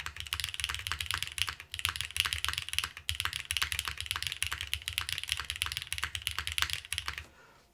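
Rapid, steady typing on a mechanical keyboard fitted with GMK keycaps, close and crisp with dense keystrokes and deeper spacebar thocks, running continuously before stopping abruptly near the end.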